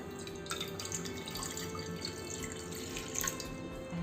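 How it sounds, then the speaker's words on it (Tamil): Water runs and splashes steadily into a metal kadai pan for a few seconds, with faint dripping and a hollow metallic ring. No one speaks. "இப்போ ஒரு கடாய் வச்சுருக்கேன், அதில் கொஞ்சம் தண்ணி சேர்த்துக்கலாம்."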